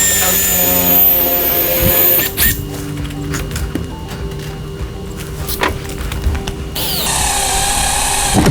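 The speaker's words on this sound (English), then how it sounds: "Ryan's going to first make a hole in the side where the mark was with the spade bit" A power drill with a spade bit bores a hole through a roof for an attic fan install, a loud, steady whirring grind that keeps going and shifts pitch as the bit bites in.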